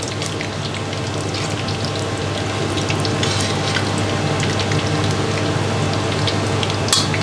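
Shallots fry in hot oil on a gas stove, a steady dense sizzle with fine crackling pops, close and continuous without talk.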